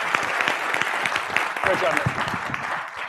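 Audience applause at a product keynote announcement, a steady dense patter of many hands clapping for about three seconds, with a voice speaking over it near the end.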